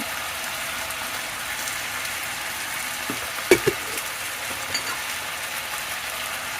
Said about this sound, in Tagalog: Then, halu-haluin lang muna natin ng konti.